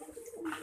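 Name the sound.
farmed birds cooing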